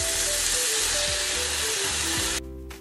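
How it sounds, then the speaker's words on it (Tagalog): Thinly sliced beef for steak fajitas frying in a pan, a loud continuous close-up sizzle with a faint tonal hum beneath, then dropping off sharply just before the end; no voices. "Lutuin ito at least 6 minutes or hanggang maluto yung ating beef, okay?"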